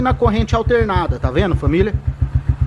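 A Honda Titan 160 motorcycle idles with a steady, rhythmic low putter that continues under and after someone speaking Portuguese close by.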